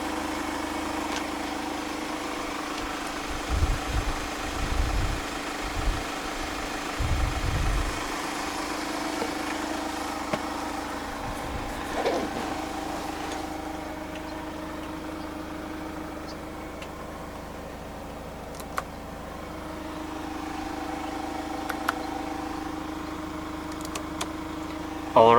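The 2.5 CRDi diesel engine of a 2018 Hyundai Grand Starex idles steadily after start-up, a low even rumble with a few brief knocks early on, heard from close by.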